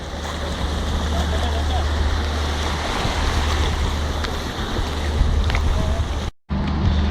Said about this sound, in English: Now we have set on this boat, and we are now having this joyride